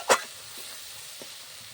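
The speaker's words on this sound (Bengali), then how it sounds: "ভালো করে মশলাটা কষিয়ে নিতে হবে।" Spice masala with turmeric powder sautéing in a pan for banana-flower kofta curry makes one sharp spoon scrape, then a soft, steady low sizzle with a couple of faint stirring taps.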